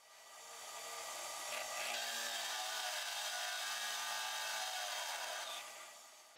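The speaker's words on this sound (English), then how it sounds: "I'm just using a 1-inch Forstner bit here" A 1-inch Forstner bit drilling into wood for a toddler climbing triangle: a continuous grinding, rasping whir that rises, holds for about four seconds, then tapers off, heard close and alone.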